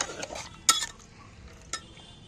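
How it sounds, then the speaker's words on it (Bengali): Mutton frying with salt and chili gives a faint sizzle beneath two sharp metallic clinks of a spoon against the pot, with quieter stirring scrapes in between. "এবার আমি এই নুন আর লঙ্কা, এর মধ্যে আর কিছু না, দেখো ভালো করে ভেজে দিচ্ছি।"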